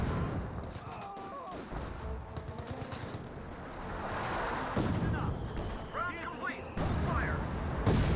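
Artillery barrage in Company of Heroes 2, with repeated deep booming impacts and thuds scattered through the battle while a commentator talks over it.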